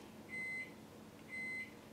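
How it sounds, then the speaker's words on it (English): A microwave oven beeps twice, two steady high electronic tones spaced about a second apart, close by over a quiet room hum. "Ignore my microwave being annoying."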